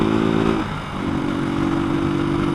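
A Honda CG motorcycle fitted with a new Koso carburetor rides at steady speed, its engine droning loud and continuous with a brief dip in pitch before settling back, wind noise over it.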